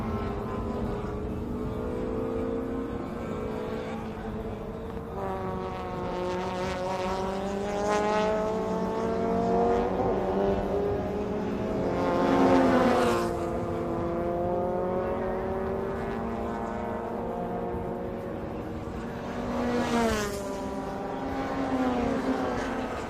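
Super Compact race cars racing at Chang International Circuit in Thailand, their engines revving and shifting through gears as cars pass at close and middle distance, the sound swelling and fading with each pass.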